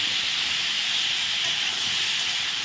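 Ridge gourd frying under a lid in a covered pan, giving a steady, even sizzling hiss that holds at the same loudness throughout with no pauses.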